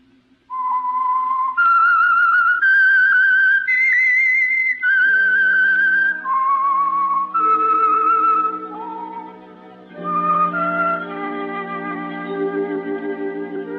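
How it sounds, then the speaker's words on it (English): A clear whistled signal tune on a 1940s radio programme, sustained notes stepping up and down, later joined by a soft orchestral backing. "That whistle is your signal for the Signal Oil program"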